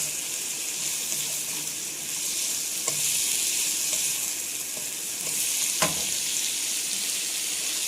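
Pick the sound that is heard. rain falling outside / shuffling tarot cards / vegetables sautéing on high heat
vegetables sautéing on high heat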